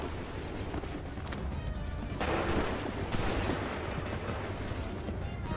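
Musket volleys crack out in the video game Assassin's Creed 3, a dense rolling fusillade of overlapping shots with a louder burst midway, heard amid battle noise.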